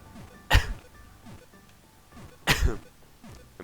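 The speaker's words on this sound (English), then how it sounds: "I'm gonna stop coughing." A person coughs twice, two sharp, loud, close bursts about two seconds apart over a quiet background.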